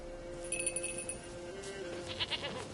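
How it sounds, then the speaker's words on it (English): A goat in The Witcher 3 bleats in a few short, wavering cries against a quiet game ambience, close and moderately loud, with no speech. "Here, goat."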